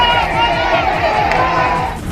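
A crowd in uproar as police lead arrested women away through the throng, a dense, continuous roar of shouting and babbling voices with rhythmic chanting pulses underneath, loud and close throughout.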